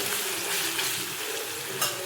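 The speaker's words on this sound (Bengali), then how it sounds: "তাই আলুটা এখন ভাজছি।" A potato fries in a pan on a home stove, giving a continuous dense sizzle that stays steady and close with no voices.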